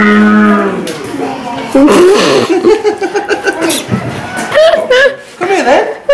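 A cow on a children's farm at Abbotsbury moos loudly and close by, a long low call followed by further bellowing, with children's and adults' voices and laughter mixed in around it.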